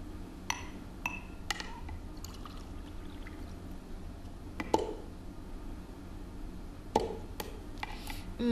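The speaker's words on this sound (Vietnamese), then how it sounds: "Dạ, để con rót nước cho má uống." Water is poured into a drinking cup indoors, heard as soft trickling with a few light clinks of glass spread through a quiet room.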